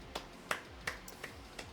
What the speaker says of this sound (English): that's the sound of 2 Alrighty. hands clapping.